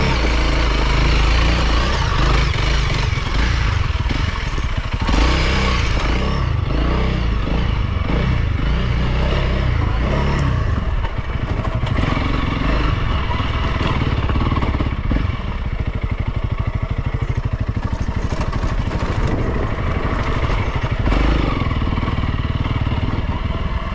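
A 2022 Honda CRF300L with a 300 cc counterbalanced single-cylinder engine is ridden on single track, its engine note rising and falling continuously amid rattling and clatter, loud and close throughout.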